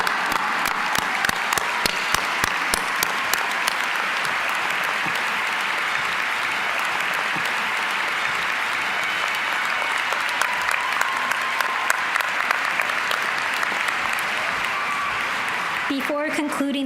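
Sustained, dense applause from a large crowd at a medical school commencement ceremony, loud and even for the whole stretch before it fades out at the end.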